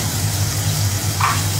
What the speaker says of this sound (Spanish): Vamos a colocar la cebolla blanca, pimiento,